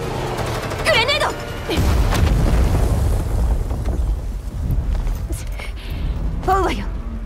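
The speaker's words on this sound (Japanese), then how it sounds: "グレネード。" A grenade blasts in a Girls' Frontline 2 video game cutscene, a deep booming burst that rolls into a long rumbling aftermath, with voices speaking briefly before and after it.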